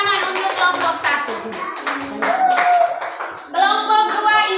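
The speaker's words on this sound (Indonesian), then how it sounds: "tepuk tangan untuk kelompok 1" Children in a first-grade Indonesian-language classroom clap for group 1, quick rhythmic patterned claps close by, mixed with young voices and chatter.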